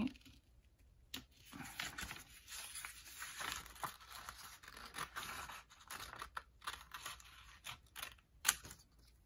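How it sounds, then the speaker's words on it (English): Repeated crisp snipping and crinkling of purple paper being cut with scissors, close by, in an irregular rhythm with no talking. "we'll cut the rest of that with a pair of scissors"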